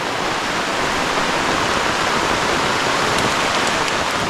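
Heavy rain pours down in a forest in a dense, unbroken hiss, loud and constant throughout, with no voices.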